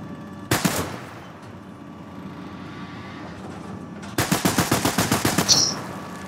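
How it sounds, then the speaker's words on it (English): Machine gun turrets on a land battleship in a video game fire a short burst near the start, then a longer rapid rattling volley of about a dozen shots, over a steady engine hum. "I am in a land battleship. With machine gun turrets."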